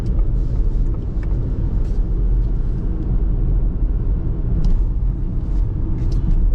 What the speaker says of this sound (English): I'm gonna hit the gas, but there's no gas. It's only electric.